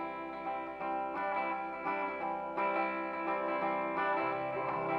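An electric guitar played through a Divided by 13 1x12 20-watt tube amp with 6V6 tubes rings out in chorused, slightly driven chords, strummed in rhythmic bursts with echo and reverb, no talking.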